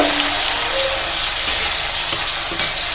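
Tomato paste fries in hot oil with a loud, continuous close sizzle and crackle, stirred throughout, with no voices.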